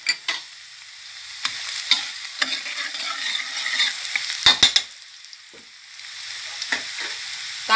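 Shiitake mushrooms and a whole head of garlic are stir-fried in oil, giving a low, steady sizzle with scattered spatula scrapes and taps, close and moderately quiet, with no speech.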